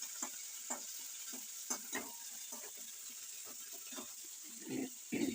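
Chili and spices fry in a pan for a raw plantain and mung dal curry, with steady soft sizzling and intermittent stirring scrapes throughout, ending in a couple of louder bursts.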